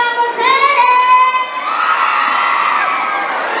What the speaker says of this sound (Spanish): El grito bien fuerte de las mujeres.